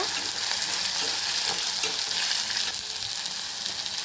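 Tomatoes with rock salt sautéing in a pan, a dense, steady sizzle and crackle with soft stirring scrapes, close and continuous with no voices.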